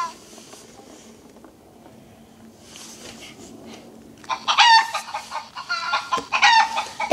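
Chicken clucking sound effect, rapid loud clucks and squawks bursting in after a quieter stretch of faint background noise, repeating in close clusters.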